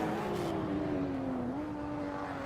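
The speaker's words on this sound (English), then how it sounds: "bad engine note there. That didn't sound very good." A race car engine in a sim racing game at the Red Bull Ring drones steadily with a held, slightly wavering note under broad road and wind noise, fairly quiet and without talk.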